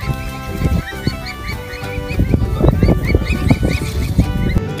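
A toy goose honks repeatedly in quick, nasal bursts, loud and close, over rustling and clattering of toys being handled.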